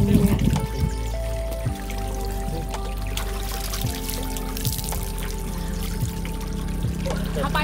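Water pours and trickles steadily from a rural Konkan village water source as hands and feet are washed, a continuous close splashing stream with a few brief murmurs of people nearby.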